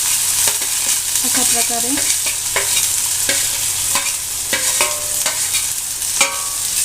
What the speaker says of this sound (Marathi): आता छान प्रकारे हलवा त्यांना, पूर्ण मिक्स करून घ्या छानपैकी